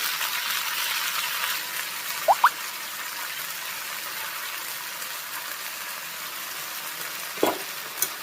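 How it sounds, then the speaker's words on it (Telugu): Cut brinjal pieces and green chilies fry in a pan, a steady, fairly loud sizzle running throughout, broken only by a couple of brief clicks. "ఇప్పుడైతే కట్ చేసుకున్న వంకాయ ముక్కలు కూడా యాడ్ చేస్తున్నాను."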